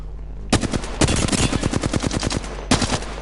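Rapid automatic gunfire in the Apex Legends video game on PS4, loud bursts of closely spaced shots starting half a second in, with a second burst near the end.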